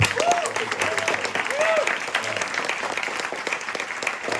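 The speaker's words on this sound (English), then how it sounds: "I would like to ask everybody to give a huge round of applause for all of them." An audience at an energy-grid panel discussion gives the panelists steady, moderately loud applause that holds evenly throughout, with brief vocal whoops rising above the clapping.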